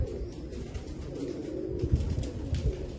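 Breeder pigeons coo softly in a rooftop loft, a continuous low murmur of overlapping calls close by.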